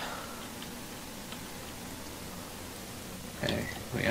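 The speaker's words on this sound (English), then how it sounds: "When will this rain let up?" Rain falls steadily in a video game, a constant soft hiss with faint drips, joined near the end by a louder brief thump or rustle.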